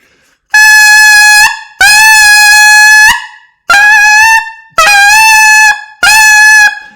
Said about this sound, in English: If I stop my air, I sound like this.